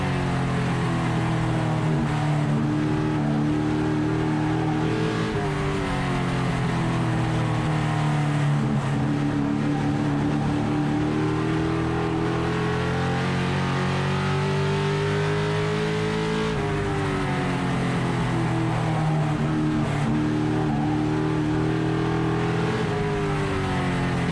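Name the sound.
race cars at Stafford weekly racing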